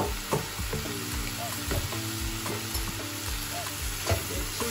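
Dried Lotia fish (dakala) and tomato sizzle in a frying pan while being stirred, steady close crackle with repeated utensil scrapes and clinks, no talking.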